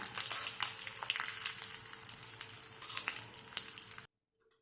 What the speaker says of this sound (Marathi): ही खमंग फोडणी आपण आता याच्यावरती घालून घेऊया.